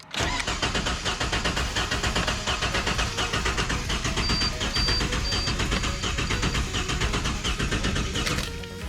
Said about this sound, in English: It sounds like it's got no compression because we have obviously number one spark plug out of the engine.